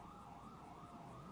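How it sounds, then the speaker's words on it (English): Emergency vehicle sirens on a highway, a faint distant wailing tone rising and falling steadily over low traffic rumble, with no talking. "Am I hearing sirens?"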